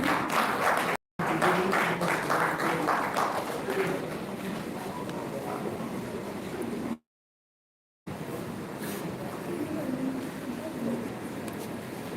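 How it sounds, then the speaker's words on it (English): A crowd claps steadily in a big room at a World Tourism Day ceremony, a dense patter of applause with mixed voices underneath, briefly cutting out twice. "Can we put our hands together for him to take the program?"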